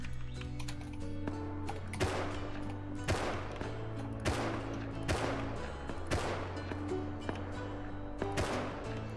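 Gunfire in the survival game Rust, repeated sharp shots in irregular bursts roughly every second, each with a ringing tail, over a steady low in-game hum.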